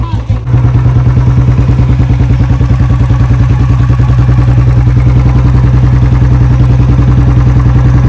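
A Bullet motorcycle's single-cylinder engine thumps loudly and close in a fast, even, unbroken beat while riding, with deep low rumble and mechanical clatter.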